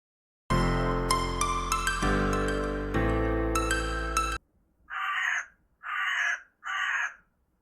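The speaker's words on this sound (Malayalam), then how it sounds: "പുറത്തു കാക്കകളുടെ ബഹളം." After a stretch of bright music, crows caw three times in a steady row, loud and distinct, in a children's cartoon animation.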